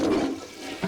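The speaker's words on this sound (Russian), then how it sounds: "при этом он смывает унитаз" A toilet flushes in a quick, gushing rush of water that fades within a second, loud and close with no voices.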